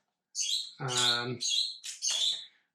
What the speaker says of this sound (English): you probably hear the bird going bonkers in the background there